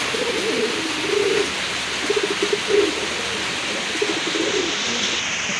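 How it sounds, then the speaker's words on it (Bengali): Pigeons coo in soft repeated bursts, a few low rolling calls spaced over a steady background hiss, fairly close. "এক জোড়া কবুতর টকটকে লাল এক জোড়া শকিং কবুতর গোলাপি ঠোঁটের কবুতর"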